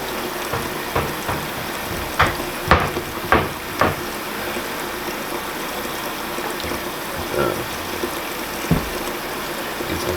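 Wet squishing and splashing as a green luffa sponge is washed with soap, a steady watery wash with several sharper squeezes and drips, close and continuous.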